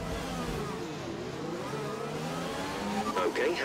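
An F1 2020 race car pulls away from the starting grid in the F1 2020 video game, its engine revving up and rising in pitch as it accelerates. The engine is loud and close, with voices mixed in.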